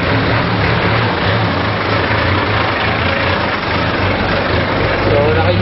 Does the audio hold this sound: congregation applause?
no